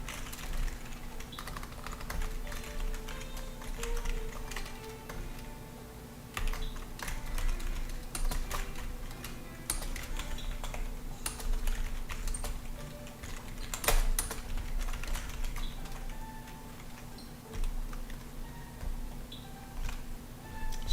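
Computer keyboard keys typed and pressed steadily during a coding session, a dense, continuous run of close, quiet clicks and taps lasting throughout, with no talking.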